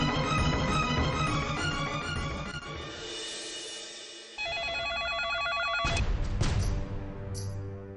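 A telephone rings during a call in a Hindi TV drama, with repeated electronic ring bursts over dramatic background music, steady and fairly loud.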